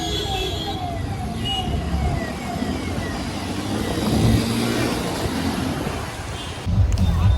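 Heavy road traffic on a Mumbai street in Kandivali during the Charkop Raja Ganesh immersion procession, a continuous roar of engines and passing vehicles, with voices faintly mixed in.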